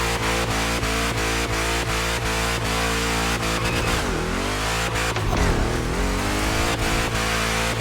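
A powerful big block engine in a racing game revs hard and steadily with a loud roar, with brief dips in pitch as it shifts and slides, and no voices.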